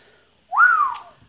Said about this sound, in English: I hate whistling on the podcast.